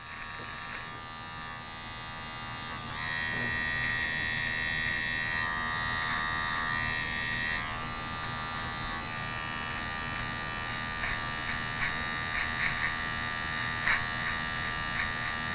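An electric beard trimmer buzzes steadily up close, its whine rising and shifting as it cuts through a short beard, with faint clicks and no talking.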